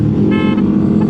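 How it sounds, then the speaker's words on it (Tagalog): Horn of a Yamaha NMAX V2 195cc scooter honked once in a short, steady toot, close and loud, over a constant engine and road rumble. "Lagi ang busina yan."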